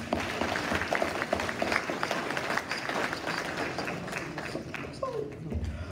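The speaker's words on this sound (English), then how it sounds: "give him another round of applause" A crowd claps in sustained applause, with scattered taps and background voices mixed in.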